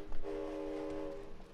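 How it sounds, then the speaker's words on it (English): Train ride in the video game It Takes Two: a steady, loud horn-like tone held for about a second over a continuous rumbling rail bed, fading near the end with no talk. "I'm riding a fucking train."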